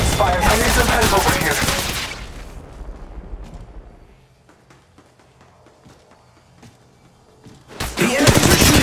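Enemy gunfire in the mobile shooter Apex Legends Mobile crackles in loud, rapid automatic bursts, then drops to a quiet lull with faint clicks before another close, heavy volley erupts.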